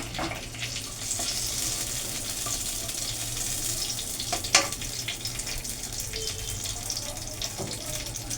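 Two bay leaves and dried red chillies sizzle in a spoonful of mustard oil in a frying pan while tempering a raw mango sour dal, a continuous close crackling hiss with a few sharper pops.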